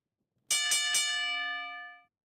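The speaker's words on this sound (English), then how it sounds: "And there's the bell." A ring bell opens a professional wrestling match with three quick, bright clangs, then a long ringing tone that fades out, loud and clear, with no talking.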